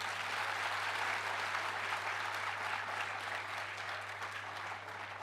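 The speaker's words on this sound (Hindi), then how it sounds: "एक बार आप अपने लिए जोरदार तालियां बजाएं।" Sustained, dense audience applause fills a business and leadership conclave hall, steady and loud throughout with a slight fade near the end, no voices on top.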